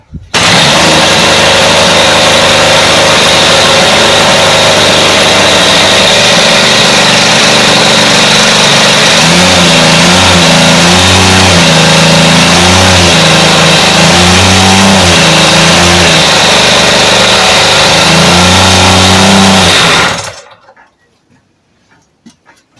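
A glow-fuel RC model engine on a test run, a very loud close buzzing roar that wavers as the throttle is blipped up and down, then cuts out abruptly into near silence.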